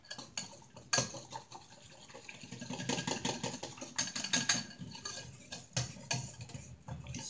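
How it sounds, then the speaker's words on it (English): Instant pudding being stirred in a clear bowl, with steady scraping and clinking of a utensil against the sides, close and moderately loud, coming in uneven bursts. "Stir that up nice."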